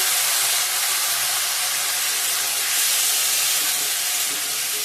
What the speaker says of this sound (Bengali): ফোড়নটা ভালো করে ভাজা ভাজা হয়ে গেছে সবজিগুলো অ্যাড করে দিয়ে দেবো টমেটো আলু পটল